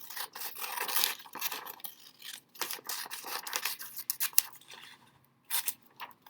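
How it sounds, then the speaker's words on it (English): Scissors snipping through paper while a page is cut out from a worksheet, a close series of crisp, irregular cuts and rustles with brief pauses, ending in a few final snips. "and we're going to cut this out."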